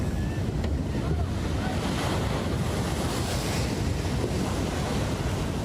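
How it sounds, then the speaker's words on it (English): Ocean waves crash over a seawall at Mission Beach in San Diego, a continuous loud roar of surf with heavy wind buffeting the microphone. "waves crashing over the seawall in Mission Beach this morning, flooding the boardwalk"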